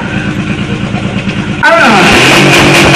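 A motorcycle engine at an annual biker gathering idles with a steady rumble, then revs hard into a loud, sustained roar that climbs and holds; voices shout over it.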